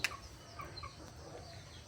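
A few soft, scattered clucks from chickens sick with cold, climbing in and out of their cage, sound faintly over a quiet background hum.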